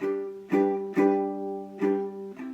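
Strummed ukulele chords ring out, with sharp strums landing in an uneven rhythm and sustaining between them, no voices.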